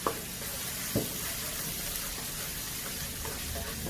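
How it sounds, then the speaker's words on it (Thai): Chicken is stir-fried in a pan with a little sesame oil, making a constant hissing sizzle broken by a couple of brief spatula knocks. "ผัดต่อให้หอมดีเลยค่ะ"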